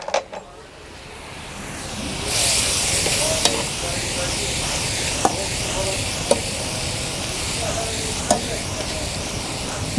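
Tomatoes and garlic sauté in a pan over a wood fire, a steady close sizzle that swells after a couple of seconds, with occasional sharp clicks and stirring scrapes and a faint voice under it.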